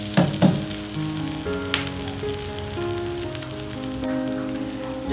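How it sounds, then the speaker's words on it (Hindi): An egg fries in a pan with a steady, loud sizzle, broken by a few sharp crackles and faint clinks near the start, with no voices. "एक साइड से हमारा अंडा फ्राई हो जाएगा तो हम इसकी साइड चेंज कर देंगे।"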